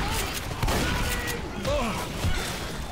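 Rapid gunfire from the zombie shooter game Left 4 Dead 2, a steady, dense barrage of shots with booms mixed under energetic player voices talking over it throughout.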